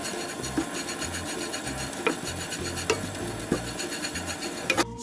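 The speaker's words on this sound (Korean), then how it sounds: "팬에 기름 없이 멸치를 살짝 볶아 비린내와 수분 제거를 해줍니다" Dried anchovies dry-roasted in a pan without oil give a continuous rough scraping and rustling as they are stirred and tossed, with occasional sharper clicks of a utensil against the pan.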